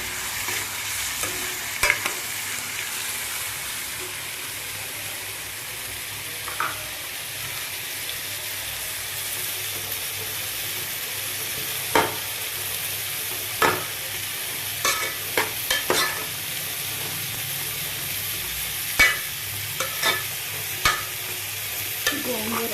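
Onions and gongura leaves for a prawn curry being stirred and fried in a pan, a soft continuous sizzle with scattered sharp spoon scrapes and taps, close and fairly quiet, no voices.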